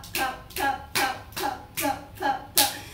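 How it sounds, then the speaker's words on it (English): Feet clap together in seven sharp, evenly spaced smacks, close and fairly soft, with no talking over them. "you better you can practice clapping with your feet"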